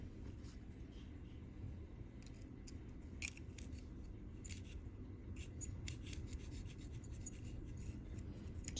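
A small pick scrapes carbon buildup from the ring grooves of a Ford 4.6 2-valve piston, giving faint, close scratchy ticks in irregular short bursts over a low background hum.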